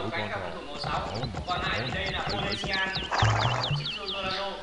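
Rapid clip-clop of a scout horse's hooves in an Age of Empires match, a steady galloping patter mixed with in-game sounds and set under continuous tournament commentary.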